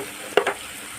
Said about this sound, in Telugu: ఉల్లిపాయలు కూడా మంచిగా వేగాలండి అప్పుడు గ్రేవీ చిక్కగా వస్తుంది